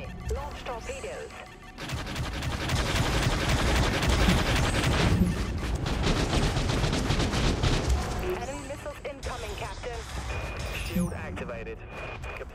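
Heavy broadside guns firing in the naval combat video game Dreadnought: a long rumbling barrage of booming blasts that builds and persists, with game voices and radio chatter heard over it.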